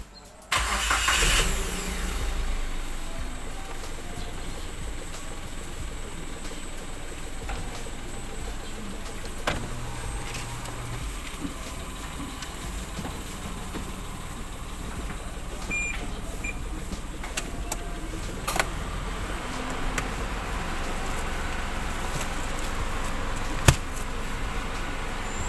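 A red 2015 Suzuki Karimun Wagon GS starts with a short crank at the beginning, then its small engine idles steadily and evenly close by, with no talk over it.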